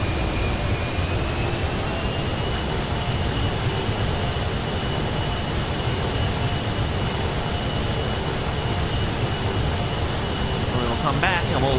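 A propeller airplane cruises in flight in GTA 5 near Sandy Shores. Its engine drones loud and steady throughout, with a faint whine held constant over the roar and no other sounds.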